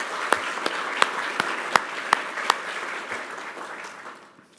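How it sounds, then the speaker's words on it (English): Audience applause for the Naspers team at a corporate address, a steady patter of many hands with a few sharp individual claps standing out before it thins and fades away. "if I can ask for a round of applause for the Naspers team"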